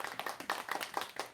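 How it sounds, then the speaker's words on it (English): A weak, thin burst of recorded applause played from an iPad during a virtual magic show, a brief patter of claps over about a second, faint and slightly tinny. "What was that weak applause?"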